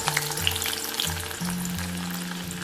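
Five or six cut garlic cloves fry in hot oil with a steady, dense sizzle and crackle, close up, with a low background hum and no voices.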